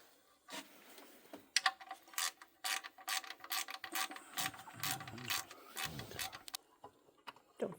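A ratchet wrench loosens inspection plate bolts on a 2015 Chevy Cruze during a turbo replacement, clicking in quick irregular bursts of pawl ticks, close and clear, with short pauses between strokes.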